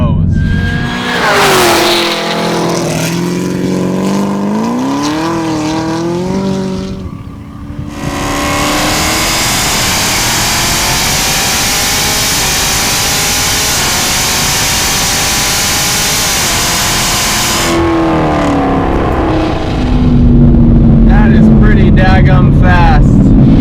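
The Exorcist sports car, which has an automatic transmission, pulls hard through its gears. Loud engine roars climb in pitch and drop at each shift, then build again in a long sustained run before another upshift.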